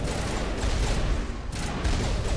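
Sustained turret gunfire in the Mass Effect video game, a dense, continuous barrage of rapid shots that stays loud and steady throughout with no clear pauses.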